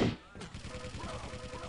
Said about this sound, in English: I see the LG being sprayed down by DDK